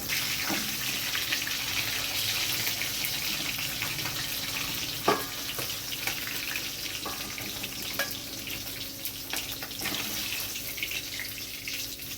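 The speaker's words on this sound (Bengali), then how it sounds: "মাছগুলো হালকা ভাজা হয়ে গেছে এবার আমি এগুলো তুলে নেব" Steady, crackling sizzle of katla fish frying in hot oil, with an occasional clink and knock of a utensil against the pan.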